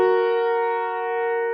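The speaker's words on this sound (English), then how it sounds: "What if we want to play do, mi at the same time?" Piano notes do and mi played together in one sustained chord, a clean, steady tone that fades gently over its short length, with nothing else heard.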